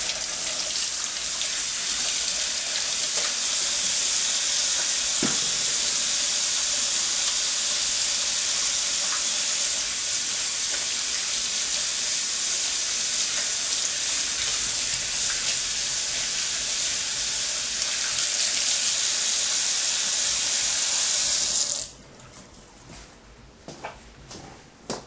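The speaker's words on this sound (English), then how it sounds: "I go ahead and turn on my faucet." A kitchen faucet pours steadily into the sink, a loud, even rushing hiss that runs for over twenty seconds and then cuts off abruptly, leaving quiet room tone and a few small knocks.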